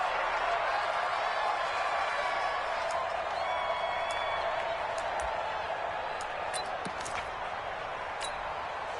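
Stadium crowd noise from a video game football broadcast: a steady, dense roar with scattered sharp clicks and pings on top, holding at an even level throughout.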